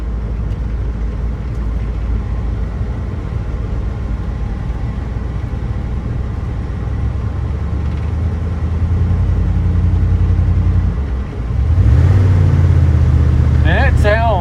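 A 1979 Ford F150 4x4 truck with added dual exhaust rumbles with a steady, deep idle, close and loud. The engine swells louder near the end, and a voice talks over it.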